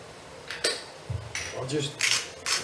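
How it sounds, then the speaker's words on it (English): Samosa filling is stirred in a pot, producing a handful of short, scraping spoon strokes against the pan, spaced irregularly and heard close up. "So I'm just gonna stir this."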